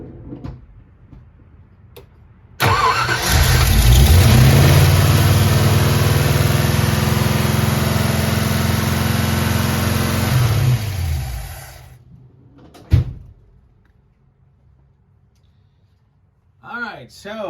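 A 1955 Ford 292 Y-block V8 fitted with a Summit 500 cfm electric-choke carburetor cranks, catches and runs loudly at a fast rev for about nine seconds, then shuts off; a brief clank and a little talk follow.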